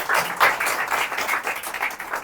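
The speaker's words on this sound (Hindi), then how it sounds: "यीशु मसीह के लिए एक जोरदार ताली हो जाए" A crowd applauds Jesus Christ at a community gathering in a steady, fairly loud burst of clapping that holds without any talk over it.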